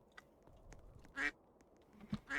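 A bird in a Roblox obby video game quacks in a few short, clipped bursts, with the loudest quacks near the middle and the end of a quiet stretch.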